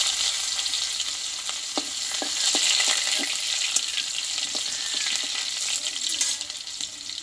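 Boiled garlic added to panch phoron frying in hot oil in a pan, a bright continuous sizzle with scattered stirring clicks and a brief surge of hiss, close and fairly loud, with no speech.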